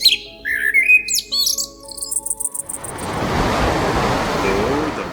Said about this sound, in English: So you can just as well speak as a bird or a...